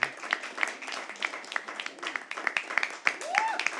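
Scattered, fairly sparse clapping from a small audience at a live poetry open mic at the Habitat, with individual hand claps audible throughout and a few faint background voices.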